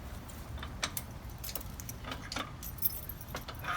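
Keys jangling and clicking as they unlock a trailer's front locking mechanism, a series of sharp metallic ticks and rattles over a low background rumble.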